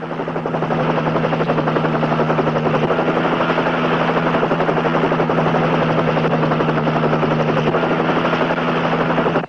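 A helicopter drones steadily nearby with a constant rotor buzz and thrum, loud and unbroken throughout with no voices.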